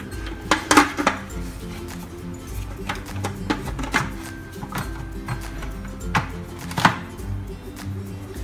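A Moulinex Cuisine cooking machine bowl holding spinach, cream and stock is being closed with its lid. Several sharp plastic and metal clicks and knocks ring out at irregular moments over a low steady hum.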